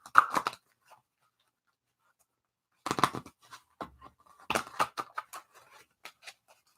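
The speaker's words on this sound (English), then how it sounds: "let me go ahead and shuffle for you, Carl, and you're next." A tarot card deck is shuffled close up in short crisp bursts, riffles and snaps separated by pauses of silence.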